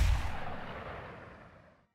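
A battle volley of gunfire in a samurai war film: one loud booming blast that rolls off and fades over about two seconds.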